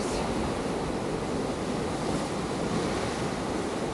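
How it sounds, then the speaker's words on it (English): Rough sea surf churning over rocks along the Pembrokeshire coast path, a steady, loud broadband roar of breaking waves with wind buffeting the microphone throughout, no voices. "The waves are churning over the rocks."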